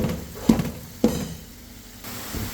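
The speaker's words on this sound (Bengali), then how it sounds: "আমার তেলটা গরম হয়ে গেছে আমি এখন মাশরুমগুলো অ্যাড করে দেব" Mushrooms go into hot oil in a pan, giving two sharp sizzling bursts that settle into a steady, moderately loud frying hiss. Nobody speaks.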